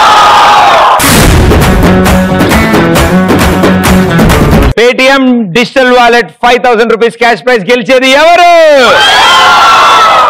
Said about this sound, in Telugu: బాగా గట్టిగా అరుస్తున్నారు.